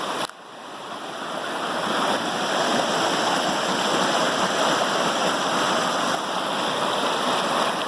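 Rushing water flows steadily at the edge of a pond, a broad, continuous wash heard close and loud, building over the first second and then holding constant with no voices.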